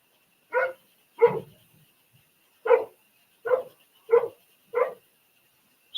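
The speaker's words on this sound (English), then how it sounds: "the people kitty corner from us just let their dog out." A dog outdoors barks six times in separate single woofs spaced about a second apart. The barks sound fairly clear and moderately near against otherwise quiet surroundings.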